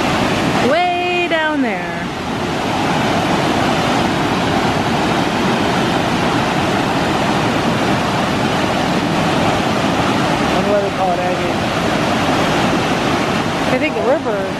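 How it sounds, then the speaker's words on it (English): Agate Falls in Michigan's Upper Peninsula roars as a loud, steady waterfall seen from above. People talk over the constant rush of water at the start and again near the end. "Agate Falls."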